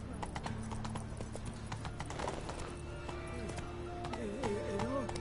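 Hooves of a horse in The Witcher 3 clip-clop in a quick, steady rhythm, close and fairly loud, with game music and a brief whinny-like tone under it.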